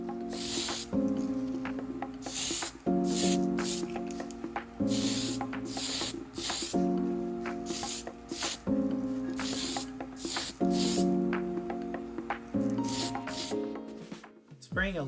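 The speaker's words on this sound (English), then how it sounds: "Spraying a light coat first will help you to see any defects there may be in the body" Spray primer going onto an AMT Slammers Chrysler Concorde model car body in light coats: a run of short, close hissing bursts with brief pauses between them, under steady background music.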